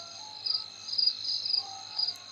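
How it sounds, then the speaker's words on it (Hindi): Insect buzzing around a deep well in the Granny Chapter Two video game, a steady high whine with soft swelling pulses, fairly faint and continuous with no voices. "यहाँ बहुत मच्छर भिनभिना रहे हैं।"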